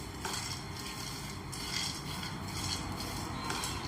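Peanut chutney sautés in a little oil in a pan, a soft steady sizzle under light clinks and scrapes of a spoon stirring against the metal, close and fairly quiet, with no voices.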